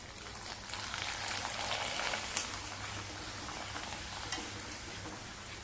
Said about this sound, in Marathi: दुसरा घालूया तळण्यासाठी.